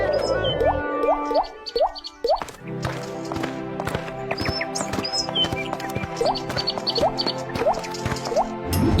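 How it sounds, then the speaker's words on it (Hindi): Water drops fall and plink in a quick, uneven series of bright drips and plops, with a few splashy squishes along the way, in a cartoon. "ये तो पानी की बूंदे हैं"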